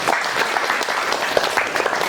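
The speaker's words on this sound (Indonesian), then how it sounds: "Tepuk tangan semuanya." Crowd of workshop attendees clapping together in a brief, steady burst of applause, close and fairly loud with no talk over it.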